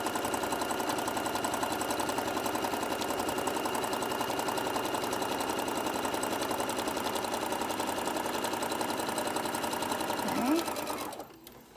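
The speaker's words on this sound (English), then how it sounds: "I just want to kind of give it a good little top stitch there." A sewing machine runs continuously at steady speed, top stitching a seam on a small tote bag, its fast rhythmic needle clatter close and even for about ten seconds before stopping, with one brief spoken word near the end.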